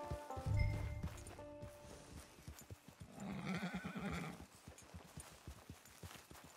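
A horse in the video game Red Dead Online whinnies loudly, then hooves clip-clop at a walk, with a second neigh partway through.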